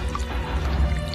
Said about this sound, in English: There's blooming water coming in!